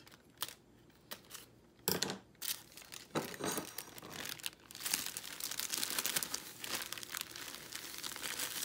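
Kitchen scissors cut open plastic packages, giving sharp snips and loud, continuous crinkling and tearing of packaging up close, with no talking.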